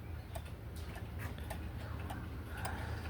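A Freischwinger wall clock with a Junghans movement and a Yauch pendulum ticks steadily, its crisp, close, even tick-tock beats sounding about three times a second over a low room hum.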